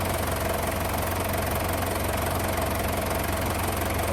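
A misfiring diesel car engine idles with a steady, continuous knocking rumble, loud and close, running without a break and with no voices.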